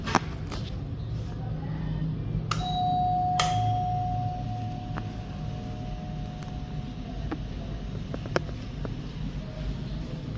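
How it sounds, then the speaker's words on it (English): An electric bell at a medical lab in Eldoret, Kenya, is rung: a steady, sustained tone of about two seconds against constant street and room noise, followed by a few sharp clicks. "Let me just ring the bell."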